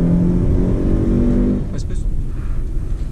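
A 2018 Jeep Renegade 1.8 manual engine drones and rumbles loudly at close range, its pitch shifting as it pulls, then eases off partway through.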